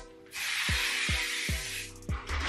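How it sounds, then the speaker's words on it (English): A can of strong-hold hairspray hisses in a long continuous burst onto wig curls, close and steady, followed by a shorter second spray. "I'm also gonna go in with my proper hardcore spray."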